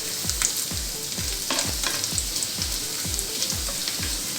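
Whole spices (cardamom, cinnamon, cloves, peppercorns and a leaf) frying in oil for chicken rice, with a steady sizzle and rhythmic scraping strokes of a spoon about twice a second.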